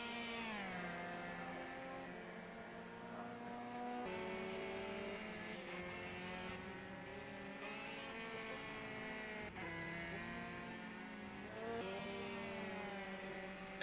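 A touring car lapping Donington Park, a single engine heard from onboard, loud and continuous, climbing in pitch through each gear before sharp shifts drop it back down, repeating through corners and straights.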